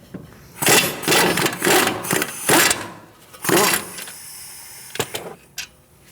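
A caliper bolt comes off a 2008-2014 Mercedes-Benz C300 with an 18mm socket, heard as several loud, close whirring bursts separated by pauses, followed by a few sharp metallic clicks.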